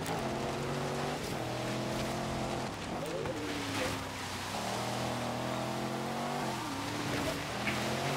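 Range Rover engine in the racing game Forza Horizon 3, droning steadily and loud with rising and falling harmonic pitch as it accelerates and shifts gears through several cycles, continuous throughout with no talk.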